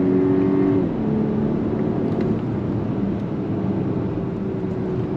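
A 2024 VW Atlas Cross Sport on throttle, its engine note climbing steadily toward a 6,500 RPM redline, a loud sustained drone heard from inside the cabin after a brief upshift.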